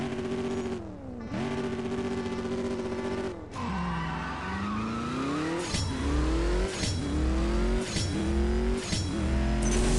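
Race car in the drag racing game CSR2 accelerating hard through repeated gear shifts, each rising engine whine cut by a brief dip and bark, loud and close with tire noise underneath.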